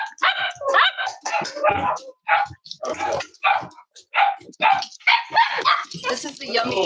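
Cavalier King Charles Spaniel puppies bark and yip in repeated short bursts close by, mixed in with a person talking over the racket.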